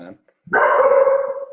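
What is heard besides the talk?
dog barking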